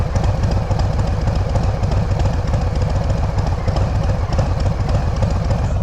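A Harley-Davidson motorcycle with dual exhaust and a lopey aftermarket cam idles up close from its left side, a loud, continuous, deep uneven throb with no talk over it.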